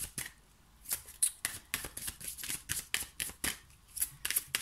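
Oracle cards being shuffled close by, a rapid series of crisp riffling slaps in a steady rhythm with no talking over them.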